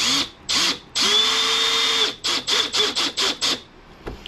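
A power drill whirs in short bursts, one long run followed by a quick series of brief pulses as self-drilling screws are driven to install storage boxes in a boat.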